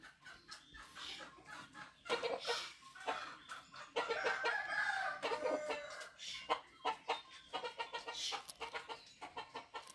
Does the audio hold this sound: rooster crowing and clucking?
yes